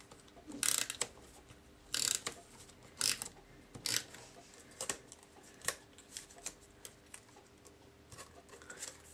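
Snail adhesive tape runner being run along the back edges of small pieces of scrapbook pattern paper, giving a series of quick ratcheting clicks and short rasping bursts in an irregular rhythm, close and fairly quiet.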